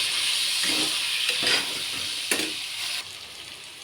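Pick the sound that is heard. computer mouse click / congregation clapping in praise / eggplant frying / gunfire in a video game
eggplant frying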